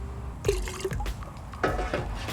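Liquid nutrient solution for a circulating hydroponic system is poured into a container, producing short close splashes and trickling in a couple of bursts over a low background hum.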